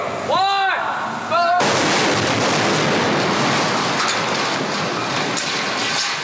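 Staged explosions go off during a destruction scene on the 2007 Transformers film set: a loud blast bursts in after a brief whistling tone, followed by a sustained crackling rumble and falling debris.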